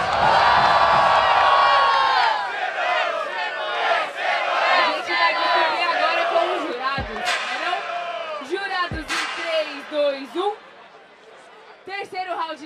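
A crowd cheers, whoops and shouts at a Brazilian rap battle, Batalha da Leste. The roar stays loud and dense throughout, with sharp individual yells rising above it.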